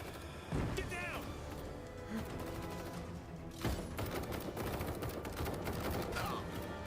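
Gunfire in an animated action series, with sharp bursts and impacts amid music and raised voices.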